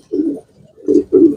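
Pigeons in a loft coo close by, three low throaty murmurs with a short pause after the first.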